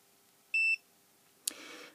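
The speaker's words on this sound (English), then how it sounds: "it should beep and tell me it's charging" A short, clear electronic beep sounds once from a lithium cell charge monitor on a solar lamp, followed by a faint click and soft hiss, quiet and close.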